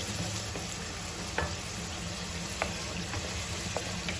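Potatoes hit a hot, oiled pan while chickpea pulao is being made, giving a steady, close sizzle with a few small clinks of utensils on the pan and no talking.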